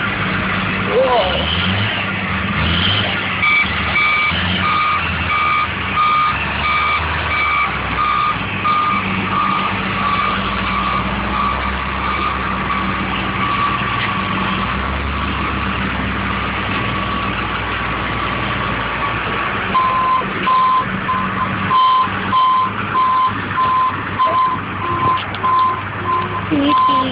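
Dump truck reversing at a construction site, its backup alarm beeping in steady repeated pulses over a low idling diesel engine, with people talking nearby.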